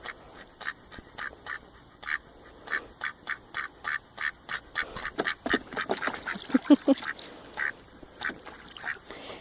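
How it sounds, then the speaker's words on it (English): A steady run of duck quacks, short and evenly spaced, fairly close, growing busier and overlapping near the middle before thinning out. "You know you love ducks."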